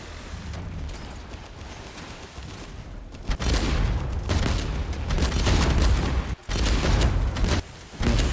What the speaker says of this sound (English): That minigun can destroy your entire ship in seconds.